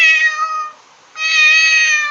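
A person mimics a cat's meow, giving two loud, drawn-out, whiny meow calls close up with a short pause between them.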